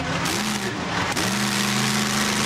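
A monster truck engine roars on a Pocono clay dirt power track. The note is loud and close and holds a steady, heavy drone with a brief surge of revs near the middle.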